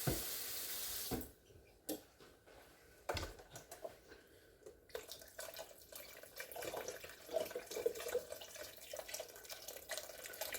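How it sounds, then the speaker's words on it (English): Tap water runs into a cooking pot being filled about halfway for boiling potatoes and sausage: a steady close-up rush and splash that swells and dips, with a louder burst at the start and no talking. "And then I'll add 2 cups of water."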